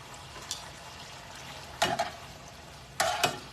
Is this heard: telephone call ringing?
no